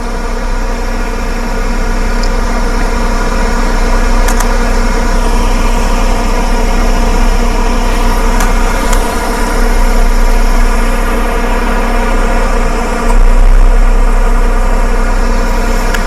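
A car engine idles steadily right beside the microphone during a night of storm chasing, a continuous low rumbling drone with a layered hum that holds level throughout with no voices.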